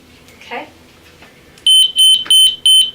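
Four loud, evenly spaced electronic beeps from a defibrillator monitor switching on beside a training mannequin, sounding clean and close after a stretch of quiet room noise and a faint voice.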